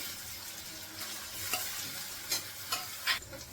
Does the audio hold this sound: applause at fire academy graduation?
no